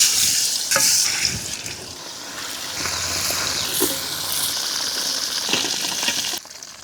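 Pieces of chicken frying in hot oil in a pan for a Bangladeshi shahi morog polao, a steady loud close sizzle with occasional spattering pops and stirring scrapes, continuing throughout without speech.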